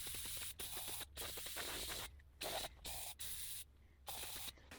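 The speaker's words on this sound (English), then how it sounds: "This is just brake cleaner." Brake cleaner sprayed from an aerosol can onto a 1950 Flathead V8 engine, in a series of loud close hissing bursts separated by short pauses.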